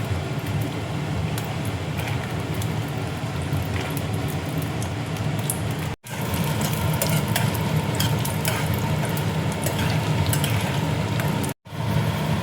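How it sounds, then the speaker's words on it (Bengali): Peanuts frying in hot oil in a frying pan give a loud, continuous close sizzle, with stirring and scraping throughout and two brief breaks in the sound. "ফ্রাই প্যানে দেখো তেল দিয়েছি, তেল দেখো গরম হয়ে গেছে। এবার আমি বাদামটা দেখো দিয়ে দিচ্ছি।"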